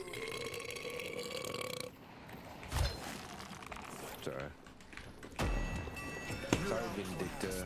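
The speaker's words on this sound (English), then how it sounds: "Sorry, I burped." A loud, drawn-out burp from a player streaming the game Deadlock, rumbling over busy game sounds with brief talk around it.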